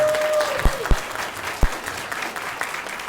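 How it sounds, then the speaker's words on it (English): Loud crowd applause at a school pinning ceremony honoring kindergarten and first grade students, a dense wash of clapping with a few sharp thumps and a faint tone early on. "let's give them a loud, thundering applause"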